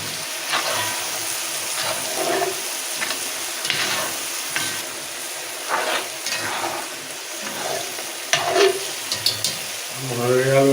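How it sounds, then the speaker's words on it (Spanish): Olla podrida simmering in a hot pot sizzles and crackles steadily as water is poured in, with stirring scrapes and bursts of hissing, the frying noise close and fairly loud throughout. "ahora es momento de agregar un poco de líquido, agua, para evitar que se nos entre a pegar"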